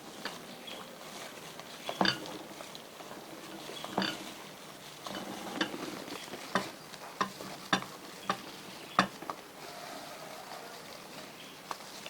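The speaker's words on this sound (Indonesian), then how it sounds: "Sambil kita mengaduk tepung ini" Flour batter being stirred with melted margarine for a diabetic-friendly recipe, a soft scraping patter broken by sharp clicks of the utensil against the bowl, close and steady without talk.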